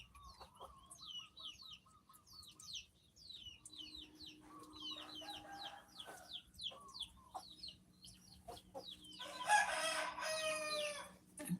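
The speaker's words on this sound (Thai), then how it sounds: "ไก่ขัน" A village rooster crows several times amid chirping birds on a rainy morning, with a louder, closer crow near the end over a steady background hum.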